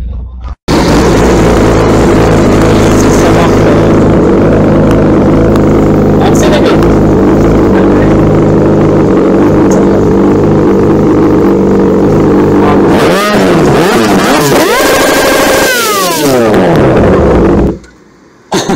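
Yamaha R6 sport motorcycle with a loud aftermarket exhaust, a roaring, steady engine drone close by that rises and falls in several sharp revs near the end before suddenly cutting out, with voices underneath.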